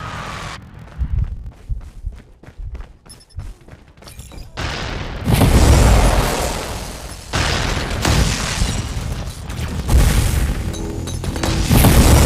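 Heavy booming explosions and crashing blasts from a Predator missile strike in a multiplayer shooter, preceded by rapid bursts of gunfire, loud and sustained with rumbling aftershocks.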